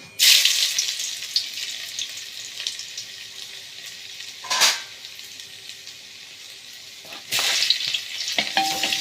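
Egg roast frying in oil in a pan for a home dinner, with a steady close sizzle and sharper bursts of crackling as ingredients hit the hot oil, no voices.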